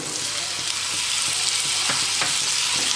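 Onion frying in hot oil for a cabbage, potato and pea sabzi, a steady dense sizzle with occasional stirring scrapes, close and continuous with no talk.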